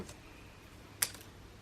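A pair of scissors makes a single crisp snip through a ribbon loop on a pink and gold handmade card, a quiet, isolated click in an otherwise hushed room.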